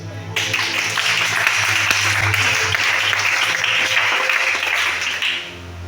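Congregation at a Sunday church service in Libreville, Gabon, bursting into loud sustained applause and cheering that starts abruptly, holds steady for several seconds over a low organ-like drone, then fades.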